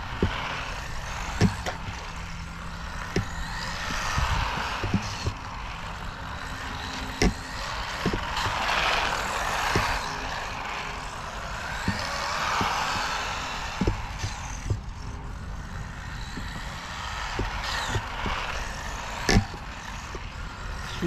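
A small electric Mojave Grom RC car accelerating and braking on a track, its motor whine swelling and falling in repeated bursts. Moderately near, with occasional sharp clicks and knocks and no talking.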